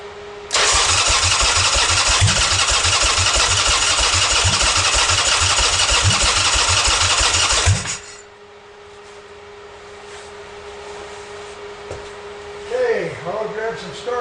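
A Buell motorcycle with freshly transferred wiring is started on choke. It barks into a loud, rough, pulsing run close by for about seven seconds, then cuts out abruptly, leaving a quiet hum and brief talk.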